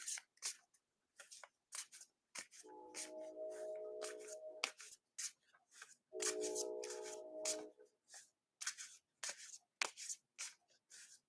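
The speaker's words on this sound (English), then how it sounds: "you'll have to trust that I'm shuffling" Crisp, rapid flicking and riffling of tarot cards in two bursts, interspersed with soft taps and handling noises, close and quiet.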